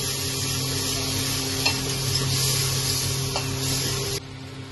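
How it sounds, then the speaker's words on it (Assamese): Masala spices fry in oil for a mutton curry while being stirred, making a steady close sizzle with soft scraping from the stirring, until the sound drops away near the end. "মই ভাজি দিছোঁ মছলাটো।"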